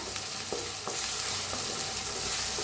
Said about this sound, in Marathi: कांद्याला चांगलं भाजून घेऊया